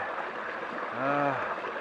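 Rock Creek flowing near its source, a steady close wash of running water with soft gurgles, briefly joined by a short tonal hum or voice.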